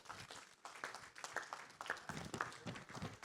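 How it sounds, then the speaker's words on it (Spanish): A church congregation claps together, a quiet, short burst of scattered handclaps with a faint uneven rhythm and no voices over it. "Un aplauso al Señor."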